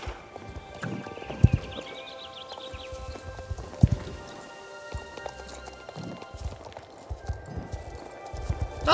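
Hooves clip-clop in a steady rhythm as a horse is ridden in the online horse game Star Stable, with occasional sharper hoof strikes, a brief whinny-like tone and a faint voice underneath.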